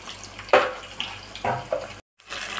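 Ginger paste hits a hot pan with onions for fish curry, sizzling close by in a few sharp bursts over a steady frying hiss, with a brief drop to silence near the end.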